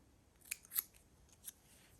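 Scissors snipping paper from junk mail for collage material, a few faint, quick crisp cuts in a quiet room.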